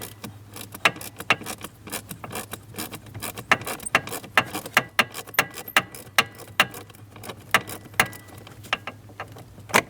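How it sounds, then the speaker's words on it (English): A manual ratchet turns a T20 Torx bolt while a blend door actuator is removed from a 2008-2016 Chrysler HVAC unit. Sharp, close metallic clicks repeat in an irregular run throughout, with no talk. "I'm just switching to a manual ratchet."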